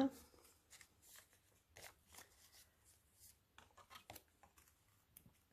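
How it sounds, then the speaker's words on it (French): Paper banknotes are folded by hand for small budget envelopes, giving soft crinkling, rustling and creasing sounds in close, quiet bursts with faint speech in the background. "Et on va plier les billets."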